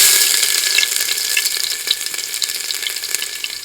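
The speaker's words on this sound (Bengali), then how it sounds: "তেল গরম হয়ে গেছে, এবার দিয়ে দেবো আদা আর রসুন কুচি" Chopped ginger and garlic frying in hot oil for momo soup, a bright steady sizzle close by with small crackles and pops, loud at first and easing slightly, with no talking.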